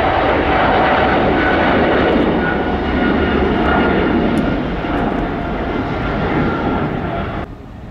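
An airliner on approach to land at Paris Charles de Gaulle airport roars loudly and steadily close by, its engine noise broad and sustained before dropping off abruptly near the end.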